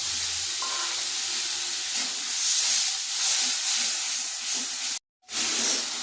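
Water from a spice bowl is poured into a hot pan of ground chilli, turmeric and tomato, giving a loud, airy sizzling hiss that holds steady, cuts out abruptly, then resumes.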